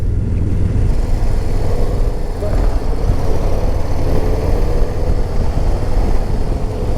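2023 Harley-Davidson Low Rider ST 117 motorcycle pulling through low gears, a dense, loud engine roar mixed with wind noise, steady throughout and close to the rider.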